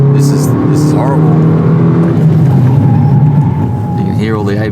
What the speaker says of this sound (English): You can hear all the ABS kick in.